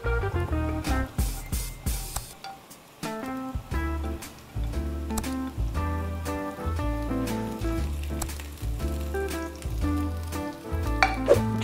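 Garlic browning in a hot pan, with onions to follow, gives a steady close sizzle that holds for several seconds under background music.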